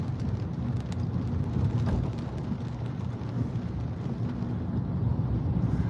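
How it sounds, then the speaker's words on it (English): Steady rain drums on a car while driving, a dense continuous wash of patter mixed with low road and engine rumble, with no talk. "It does feel different when driving in the rain."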